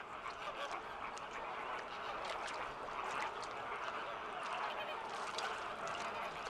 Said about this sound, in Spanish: Cuba es el hogar de la mayor colonia de flamencos caribeños del mundo.